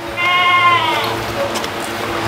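A male goat on a goat farm in Bhiwandi gives one loud, drawn-out, wavering bleat close by, which fades into a quieter farmyard background.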